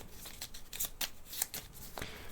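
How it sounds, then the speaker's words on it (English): A deck of ISS Vanguard board game cards gets shuffled by hand, a quick run of crisp, riffling slaps and flutters repeating several times, close and fairly quiet. "We'll just shuffle these up."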